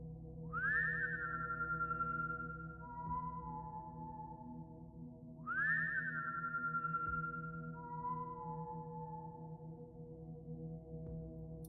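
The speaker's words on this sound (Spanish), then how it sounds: "Exactamente a las 3:03 escuchamos el silbido." A rising, warbling whistle outside a house at night sounds twice, each slowly falling to a steady lower note, over a low steady hum in a quiet room.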